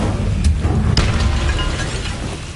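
A fire spell cast in the Hogwarts Legacy video game on PS5, with a sharp burst near the start and a second whooshing pop, then a low rumbling roar of flame that runs loudly to the end. No one speaks.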